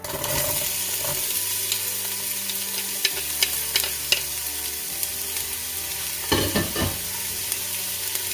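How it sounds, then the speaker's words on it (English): Onions sizzling in hot oil for Japanese curry, a constant close frying hiss with scattered stirring scrapes and clinks from a utensil in the pan. "once your oil is hot, let's add in our onions first."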